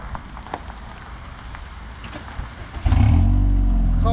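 A heavily modified Audi A5 engine starts, arriving as a sudden, loud, deep rumble near the end after quiet ambient sounds, then settles into a strong idle with low harmonic drone close to the listener.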